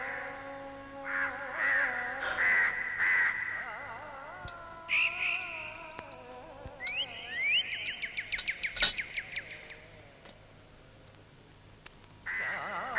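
Birds call in an outdoor scene in a Malayalam film, a series of clear, drawn-out calls and harsh rising cries, moderately near, separated by quiet pauses, with no speech.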